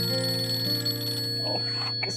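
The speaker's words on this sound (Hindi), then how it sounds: "किसका फोन आ गया?" A phone rings with a loud, steady electronic ringtone that holds continuous tones, then breaks off partway as quieter background sounds take over.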